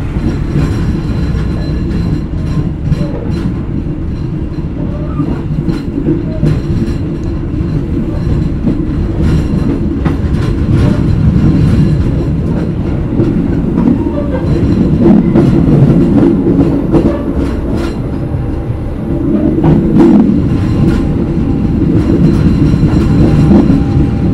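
A night passenger train departing, rumbling steadily, loud and close, with a low continuous roar and faint clattering and clicks of wheels on the track.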